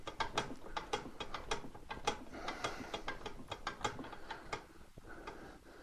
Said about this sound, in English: continue to tighten the fluid section